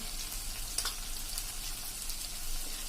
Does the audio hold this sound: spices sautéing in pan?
yes